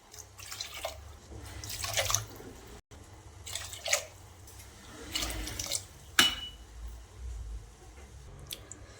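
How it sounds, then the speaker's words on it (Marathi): Water being poured from a bowl onto raw sago pearls in a cooking pot, heard as soft splashing and dripping bursts in several separate pours, close and moderately loud, with no talking. "मी ज्या वाटीने साबुदाणा घेतलाय त्याच वाटीने 6 वाटी पाणी टाकून घ्यायचं"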